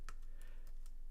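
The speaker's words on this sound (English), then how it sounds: "I bet you love the typing noise." Typing on a computer keyboard, several crisp key clicks spaced irregularly over about a second, close but faint against a quiet background.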